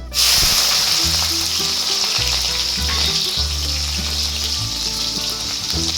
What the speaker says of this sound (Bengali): এবার এই তেলের মধ্যে এখন আমি কাঁচা লঙ্কা চিরা দেবো।